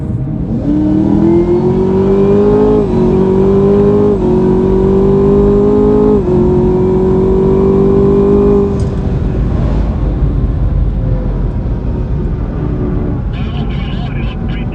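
A twin turbo Chevrolet Camaro ZL1 accelerates hard, engine note loud and close, climbing in pitch through several gear changes before settling into a steady roar; voices can be heard faintly near the end.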